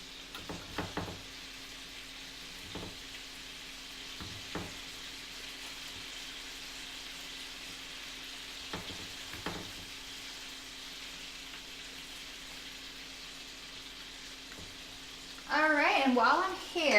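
Keto meatballs frying on medium heat in a pan give a faint steady sizzle throughout, with occasional knocks and louder clatter near the end.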